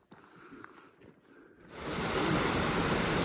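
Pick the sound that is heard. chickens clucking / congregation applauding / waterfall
waterfall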